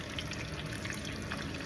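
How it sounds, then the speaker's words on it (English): Marinated chicken fries in oil at about 350 degrees in a wok, a steady close crackling sizzle with a watery hiss and no voices. "now I've started frying my first batch"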